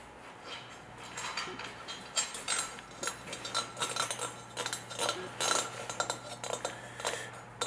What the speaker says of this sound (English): Put a nut on each side.